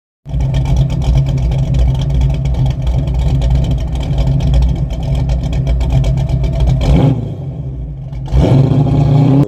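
1984 Ford Mustang Foxbody notchback with a 3-inch Flowmaster exhaust revs hard and holds a loud, rumbling idle up close, dropping off sharply twice near the end before snapping back.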